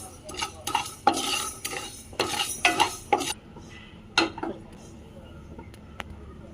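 Fenugreek and mustard seeds roasting in a pan while an implement stirs and scrapes, giving a series of sharp clattering bursts with a faint sizzle between them; a voice speaks.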